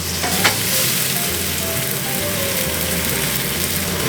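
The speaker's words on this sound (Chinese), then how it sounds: "那油温也上来之后呢，我们先把番茄下锅。" Tomatoes fry in hot oil in a pan over high heat, giving a steady, close, loud sizzle with a few stirring scrapes near the start. No voices are heard.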